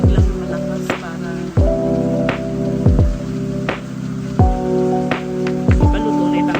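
Light rain falls steadily outdoors, with irregular drips and splats landing on a nearby surface over a soft wash of patter.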